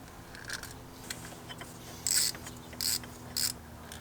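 Small screws being worked loose from the throttle body of a BMW E46 M3 during maintenance: a faint ratcheting tool clicks in three short bursts over a quiet workshop background, close and fairly soft, with no talking.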